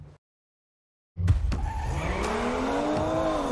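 After a brief silence, a 2017 Aston Martin DB11 in the racing game Need for Speed Payback launches with a sharp engine burst and a long, rising tire squeal, loud and close.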